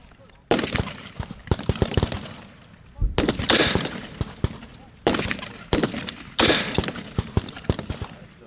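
Rifle fire crackles across a Fort Sill firing range during basic training, with bursts of sharp shots from several shooters, some near and loud and others overlapping with echoes, and people talking faintly in between.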